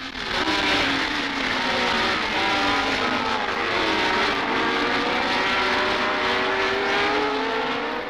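Formula One race cars, led by Ronnie Peterson, rounding Copse Corner at the British Grand Prix: a continuous loud, raspy engine roar with overlapping pitch sweeps as several cars rev and pass, no speech.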